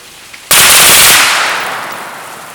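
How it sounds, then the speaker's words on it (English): A Sig Sauer MPX 9mm rifle is bump-fired outdoors: a loud, rapid burst of shots bursts in abruptly, then trails off into a long echoing decay, with no talking. "Let's do some bump fire."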